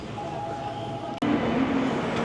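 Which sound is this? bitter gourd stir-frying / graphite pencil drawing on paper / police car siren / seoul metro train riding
seoul metro train riding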